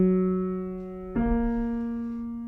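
Two sustained piano notes from the Minecraft theme ring out clearly, the first held then a lower note struck, each decaying slowly in a quiet room.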